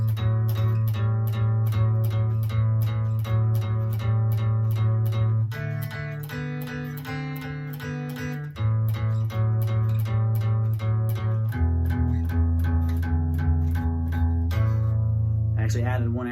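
A guitar plays a beginner rhythm exercise with repeated strummed chords in a steady pulse, switching chords every few seconds, including a bar on A, up close and alone without talk.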